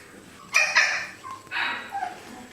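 Four-week-old Aussiedoodle puppies let out sharp, high yips and small barks, two close bursts with brief whimpering squeaks between them against a quiet room.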